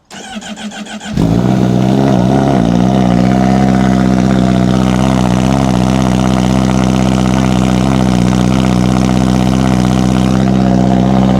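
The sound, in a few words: sport motorcycle engine cold start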